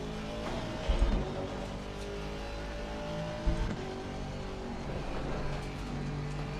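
A BMW race car engine droning steadily in a sim racing game, a sustained mid-level hum with shifting pitch and two brief louder thumps, heard alone without talk.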